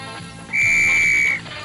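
A single sustained, shrill whistle blast, blown by accident during a sneeze in an animated children's story, lasting under a second and standing out clearly over a quiet background.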